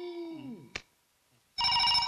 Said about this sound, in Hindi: अगर शंकर कलाल का फोन हो तो उसको बोल देना साहब राउंडअप पे गए